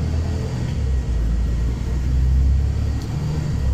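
Moscow city bus on route M89 driving: a steady low engine drone and road rumble from inside the moving bus, fairly even with slight swells, no speech.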